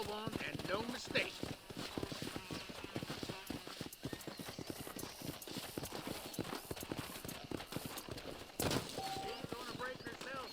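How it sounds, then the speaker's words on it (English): A horse in Red Dead Redemption clip-clops steadily at a walk, hooves rhythmic and close, with occasional snorts and a brief whinny, under continuous background chatter and game ambience. "This steed looks right tetchy, I don't mind telling"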